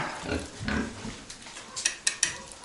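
Piglets feeding at a trough in a home pen, with soft grunting, snuffling and chewing noises close by, plus a few sharp clatters near the end.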